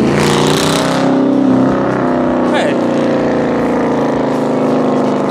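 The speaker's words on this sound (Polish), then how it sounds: "Idealna nazwa do tej pięknej, głośnej i szybkiej V8-ki." Loud V8 engine roars close by, a deep rumbling drone with a sharp rev burst early on, then a steady throaty idle.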